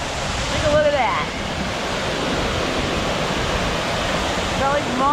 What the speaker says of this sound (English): we have made it to Rocky Brook Falls